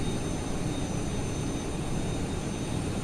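Steady, unbroken roar of an Airbus A380's jet engines while taxiing in a flight simulator game, a constant broadband rumble with a faint high whine, no talking.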